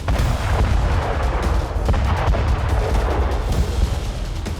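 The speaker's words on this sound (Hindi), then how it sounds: "रूस के सैनिकों ने मोर्टार से यूक्रेनी सैनिकों के अड्डे को तबाह कर दिया।" Russian mortar fire on Ukrainian positions near Marinka, heard as dense, continuous rumbling booms and blasts, loud and sustained with no clear gaps between impacts.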